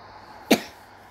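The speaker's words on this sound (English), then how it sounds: "I'm coughing a lot in today's video." A single short, sharp cough from one person, close and distinct against a quiet background hum.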